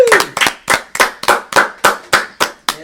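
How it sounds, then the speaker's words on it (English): Sharp, evenly spaced hand claps ring out one after another, about ten in a steady rhythm, loud and close, with no talking. "Do a round of applause."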